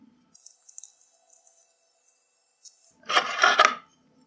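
Small metal parts of a homemade pseudo-grenade fuse being screwed together, with light taps and faint scraping followed by a louder grinding, rattling burst of metal turning near the end, close up and without talk.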